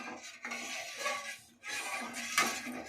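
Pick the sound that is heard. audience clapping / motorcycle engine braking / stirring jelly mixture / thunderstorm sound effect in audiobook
stirring jelly mixture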